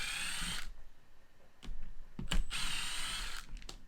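Screws are backed out of the plastic casing of a faulty Milwaukee M18 impact nut gun during a teardown, short quiet ratcheting bursts separated by brief pauses.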